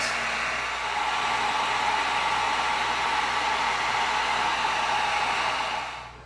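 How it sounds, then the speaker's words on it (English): A heat gun blows hot air over EVA foam as a steady, close, loud rushing roar that holds constant for about six seconds and then tapers off, with no talking. "Now we're going to heat it up and it's going to tighten up the foam"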